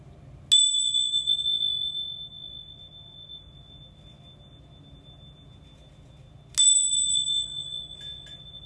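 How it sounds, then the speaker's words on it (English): A bell is struck twice, several seconds apart. Each strike is a bright, sharp ring that slowly fades, heard alone over faint background hum. "I'm going to ring the bells 3 times, so you might want to turn your audio down"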